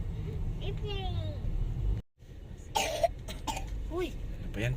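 Someone coughing in a car while travelling toward an airport terminal, a couple of throaty coughs close by over road rumble, with a voice speaking briefly.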